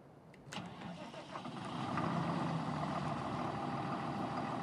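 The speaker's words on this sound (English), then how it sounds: "All right, let's start her up." A tractor engine in Farming Simulator 2013 cranks and catches, then settles into a steady rumbling idle, close and continuous.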